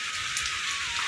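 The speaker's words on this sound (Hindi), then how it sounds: "अभी हो रही है इतनी भयंकर तेज बारिश हो रही है, बहुत ही तेज, और हवा भी बहुत तेज चल रही है" Heavy rain pounds down in a hill village in the Indian mountains, a dense, loud, unbroken hiss of drops on surfaces with no pause and no talk.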